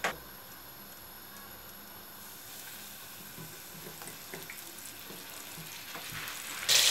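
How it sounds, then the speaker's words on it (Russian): Steady frying sizzle of flour-coated fish crackling in a pan, continuous and fairly close, with occasional small pops and a brief louder hiss near the end. "Насыпаю муку и начинаю жарить рыбу."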